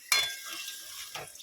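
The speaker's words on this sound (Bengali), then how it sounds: "এখানে মাংসের আলু ভাজা হচ্ছে" Potatoes for a meat curry fry in a pan with a soft sizzle, while a few sharp scraping clinks of a spatula against the pan mark the stirring.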